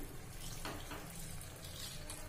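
Water is poured into a pot of spice-coated potatoes, a soft continuous splashing trickle with a couple of brief louder gushes, faint and without talk.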